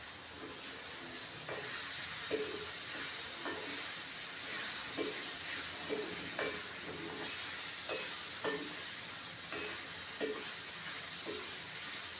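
A spoon scrapes and stirs capsicum boondi curry frying in a pan. The oil sizzles continuously, with repeated scraping strokes at a loose rhythm, close and clear with no talking.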